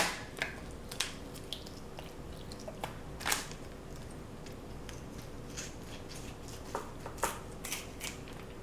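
Kitchen scissors snipping through raw chicken wingtips, a series of sharp, quiet crunching cuts at irregular intervals over faint background noise, no talking.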